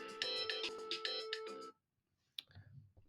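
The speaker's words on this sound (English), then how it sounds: "Sorry, that was my alarm." A phone alarm rings loudly and close in a repeating bright electronic melody for under two seconds, then stops abruptly. A brief click and faint low rustling follow.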